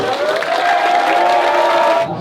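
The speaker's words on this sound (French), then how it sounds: "Applaudissez." Audience at a French furry convention's closing ceremony clapping and cheering together, a loud, dense, steady wash of applause with whoops and shouts that stops abruptly at the end.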